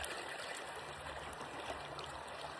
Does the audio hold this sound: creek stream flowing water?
yes